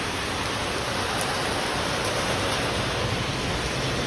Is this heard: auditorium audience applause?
no